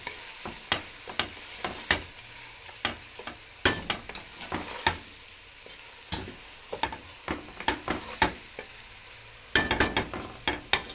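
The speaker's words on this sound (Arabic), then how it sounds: "طبعا احنا هنشوحهم بالتوابل" Vegetables for Egyptian mahshi being sautéed with spices in a pan: a steady soft sizzle broken by repeated sharp clinks and scrapes of stirring, close up and with no talking.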